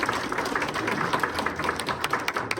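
An audience at a community welfare center's 30th-anniversary ceremony applauds to welcome an introduced National Assembly member, a dense, steady wash of many hands clapping at moderate distance, fairly soft, with no talk over it.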